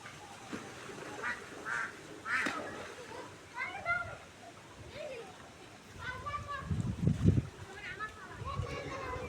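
A duck chased by dogs quacks in repeated, uneven bursts nearby, with splashing and scuffling between the calls and some voices in the background.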